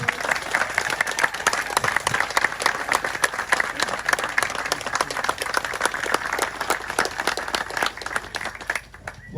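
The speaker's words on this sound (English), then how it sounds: "Massive round of applause." A festival crowd at the 2021 Great Outdoors festival applauds Paul Kelly. Thick, continuous clapping and cheering carries evenly for nearly ten seconds and dips slightly just before the end.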